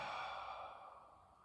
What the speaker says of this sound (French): Allez, j'expire.